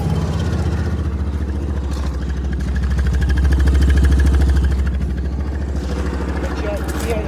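A Yamaha Rhino side-by-side sits idling close by, its engine a steady, loud low rumble with slight clatter that swells briefly midway, with some speech mixed in.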